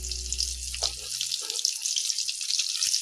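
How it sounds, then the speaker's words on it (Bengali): Onion-filled puli pitha frying in hot oil, a steady bright sizzle and crackle that holds at an even level throughout, with a low hum fading out early and no talk. "ভাজতে হবে আমাকে একটু টাইম নিয়ে,"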